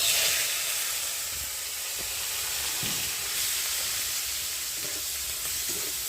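Onion, tomato, ginger and spice mix is poured into hot oil with a cumin tempering for aloo dum. A loud burst of sizzling at the start settles into a steady, close hiss, with a few faint stirring knocks.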